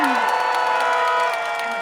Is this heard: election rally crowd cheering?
yes